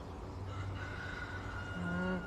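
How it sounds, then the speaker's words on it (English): Chickens vocalizing nearby on a farm, drawn-out clucking and crowing-like calls over a quiet outdoor background, with no one talking. "Chickens are up."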